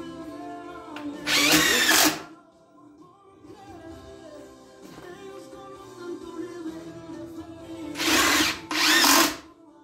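A power drill drives screws into wood with two loud, whining bursts at the start and end. A lower mechanical hum and faint clatter fill the stretch between them, and no one speaks.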